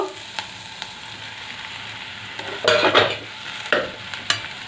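Bread pieces for bread pulao are stirred and tossed in a hot pan over high flame, giving soft oil sizzling with louder scraping and clattering bursts of tossing partway through, close up and without talking.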